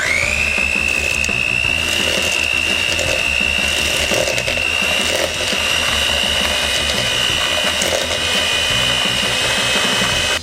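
Electric mixer creaming butter with brown and granulated sugar for Oreo-stuffed chocolate chip cookie dough, a steady loud whirring drone with a high motor whine that runs unbroken throughout.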